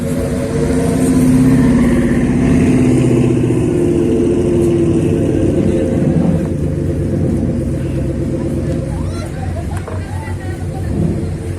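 Motorcycle engines rumble and rev, echoing heavily inside a tunnel near Zimapán. The loud droning and swelling continue throughout, with a murmur of voices in the background.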